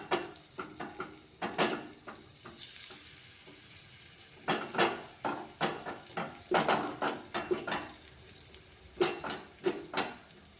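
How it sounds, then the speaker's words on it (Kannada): Potatoes fry in oil on a flat tawa, a steady sizzle broken by repeated scraping, stirring bursts that come in uneven clusters, close and fairly loud with no talking. "ಎಣ್ಣೆ ಒಳಗೆ ಹಾಕಿ ಫ್ರೈ ಮಾಡ್ಕೊಳ್ಳೋಣ."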